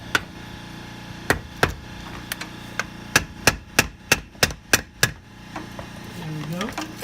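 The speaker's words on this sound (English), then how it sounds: "we're going to go ahead and pry off the housing" Prying off the axle housing on a BMW E36 brings a run of sharp metallic knocks and taps, irregular at first and then quick and evenly spaced, close and loud, with a short creaking whine at the end.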